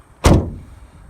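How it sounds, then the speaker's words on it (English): A car door with thin, tinny sheet metal slams shut once, close and loud, with a brief hollow ring that fades into quiet. "the way the door closes gives the impression of quality"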